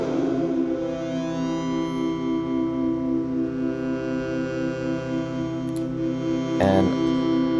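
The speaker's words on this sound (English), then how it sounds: "and add a little delay." Helm synthesizer tone with a delay effect sustains as a bright, steady chord whose repeats smear and echo, with a brief sharp glitch near the end and no voices.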